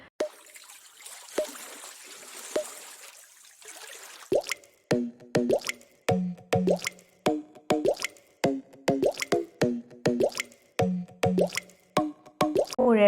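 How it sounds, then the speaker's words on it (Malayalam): Water plops and drips in a quick, irregular series near a river crossed by an old British-era bridge in a rural area, loud and close, after a quieter, more continuous trickle. "പുഴയുടെ വെള്ളം ഒഴുകുന്ന സൗണ്ട് കേൾക്കാൻ നല്ല രസമുണ്ട് കേട്ടോ"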